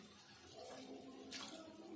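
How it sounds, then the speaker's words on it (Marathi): Water pours into a pan of cauliflower and potato masala curry cooking on the stove: a steady, close splashing rush that runs for about two seconds and swells briefly near the end. "इथे आता शिजण्यासाठी पाणी टाकूया आपण"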